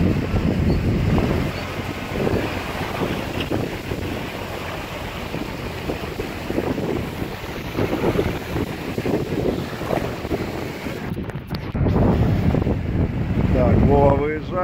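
Wind gusts hit the microphone and waves wash around a boat at sea, a loud, rough, rushing roar that swells and eases, with voices shouting now and then.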